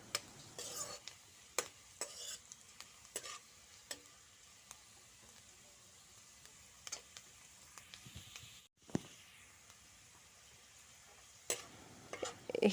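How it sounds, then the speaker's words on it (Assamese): Pumpkin peel being stirred in a pan while cooking for a chutney, heard as faint, scattered scraping clicks and taps over a quiet low background, with no talking. "ভালদৰে লৰাই দিম।"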